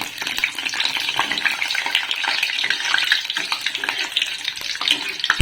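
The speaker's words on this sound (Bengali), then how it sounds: "তো একটা পাপড় দিয়ে দেখি যে তেলটা গরম হয়েছে কিনা" Papad hits hot oil on an induction cooktop and fries with a dense, loud, continuous crackling sizzle from start to finish, close to the listener, with no voices.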